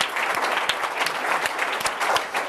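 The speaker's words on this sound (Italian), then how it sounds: "vi faccio io l'applauso" An audience claps after a choir performance on a television show, dense and steady applause for a few seconds with no talk over it.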